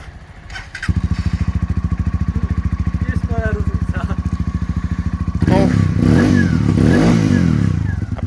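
A vintage-style Junak M12 motorcycle engine idles with a steady close putter, then is revved harder near the end into a louder, rougher roar. A voice speaks faintly over the opening seconds.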